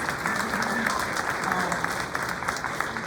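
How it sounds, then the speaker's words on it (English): Continuous applause from an audience at an International Women's Day celebration in Elgin, even and sustained throughout, with no pauses or voices standing out. "Yes, round of applause."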